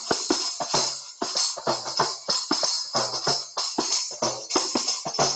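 A kanjira frame tambourine plays a fast closing tihai, a dense stream of sharp hand strikes with jingly, buzzing attacks in a driving rhythm, loud and close with no voice over it.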